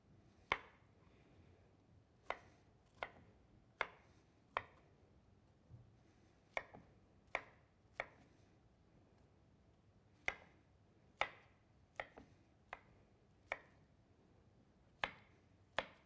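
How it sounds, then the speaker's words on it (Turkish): Steady knife chops on a cutting board as broccoli is cut up, about a dozen crisp, close strikes in a loose, uneven rhythm, with no voices. "Brokolilerimi de ufak ufak doğrayacağım."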